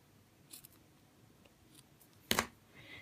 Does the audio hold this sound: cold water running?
no